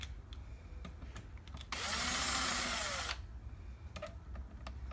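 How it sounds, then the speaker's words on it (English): A power screwdriver set to a low torque setting drives lock screws during a Weslock 1400 series lock installation, a single steady whirring burst of about a second and a half, close and loud against a quiet room. "then we'll take a power screwdriver with a torque setting on 0"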